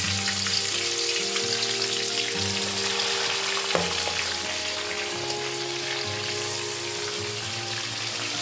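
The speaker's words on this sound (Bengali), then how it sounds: "তো এই চিংড়িগুলোকে এখন একটু ভেজে নিচ্ছি।" Prawns rubbed with salt and turmeric fry in hot oil, giving a steady, dense, close sizzle with crackling spatters throughout and a faint low hum underneath.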